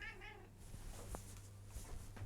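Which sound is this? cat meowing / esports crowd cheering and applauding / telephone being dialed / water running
cat meowing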